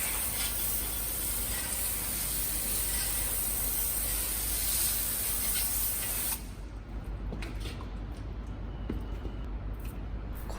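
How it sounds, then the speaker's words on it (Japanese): Chemical Guys Diablo wheel cleaner sprayed from a trigger bottle onto a BMW wheel: a continuous close hiss lasting about six seconds that stops abruptly, followed by faint handling clicks. "これでスプレー状にちゃんと出てくればもう文句なしなんですけどね"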